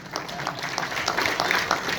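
An audience applauds loudly on cue for a guest being honoured, a dense, continuous wash of many clapping hands with faint voices mixed in.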